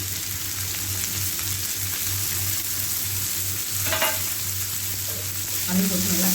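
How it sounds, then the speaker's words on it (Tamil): Sliced onion, tomato and green chili sauté in a pan for gram flour kurma, producing a steady close sizzle with faint stirring scrapes and a low background hum. "நீல வாக்கில் அரிஞ்சு வெங்காயம் போட்டுடலாம். தக்காளியும் பச்சை மிளகாய் கூட அதிலே போட்டுடலாம்."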